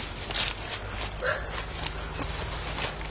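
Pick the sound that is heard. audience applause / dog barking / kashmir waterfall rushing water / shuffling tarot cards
dog barking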